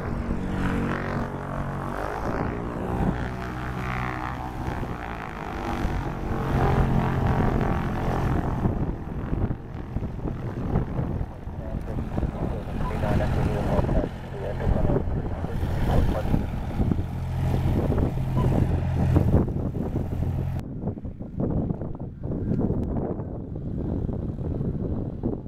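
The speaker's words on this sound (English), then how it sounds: "the Cessna's taking off on the active runway of 3-6" Cessna propeller plane taking off on an airport runway, a steady droning engine roar that builds and holds, heard from the ground with wind buffeting the microphone, then cuts off abruptly near the end.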